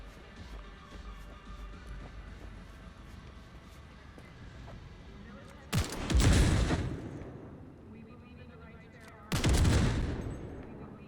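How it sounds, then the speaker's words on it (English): Two loud gunfire bursts from shooting at an enemy in Cyberpunk 2077, the first around the middle and a second near the end, each a dense crackling volley that decays quickly over a busy game background. "I was shooting at him the most nicest way I could"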